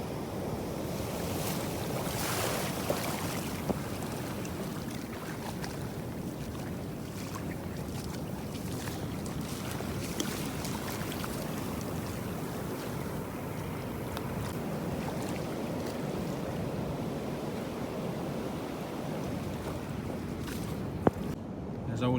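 Sea swell waves roll onto a winter beach at night during cod fishing, a steady broad rushing wash of surf with wind buffeting the microphone, continuous and fairly distant, without voices.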